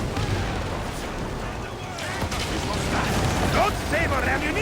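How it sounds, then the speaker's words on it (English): Ship-mounted catapults launch in a naval battle in Assassin's Creed Origins, dull booming thuds and whooshes repeating over a constant roar of battle noise, with a voice speaking briefly. "Our catapults will fire upon your order."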